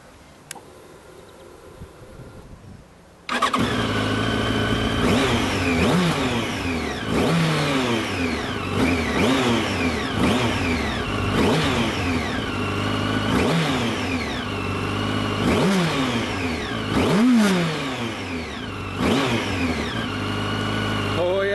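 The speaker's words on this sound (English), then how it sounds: "Let's have a quick listen to the engine." Near silence gives way to a Yamaha FZ1 Fazer's 998cc fuel-injected inline four-cylinder engine starting up, then repeated revs climb and fall in a loud, rhythmic pattern over a steady idle.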